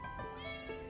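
A cat gives a short, faint meow indoors at night, brief and quiet against a low background hum.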